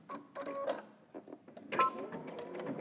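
A sewing machine understitches the facing seam of a lounge robe in short quiet bursts of rapid needle stitching, separated by brief pauses, close and without talk.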